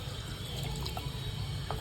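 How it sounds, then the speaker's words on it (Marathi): Water splashes steadily into a pot of prawn curry, a quiet continuous pouring sound with faint gurgles. "आता याच्यात मी थोडंसं पाणी टाकेल"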